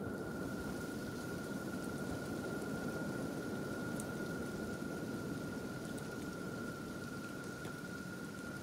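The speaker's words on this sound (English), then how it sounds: "it's burning bloody acid rain. It truly is the worst." Acid rain falls in the video game Kenshi, a steady, dense hiss of rain with a constant high tone running through it, even and unbroken across the whole stretch with no speech.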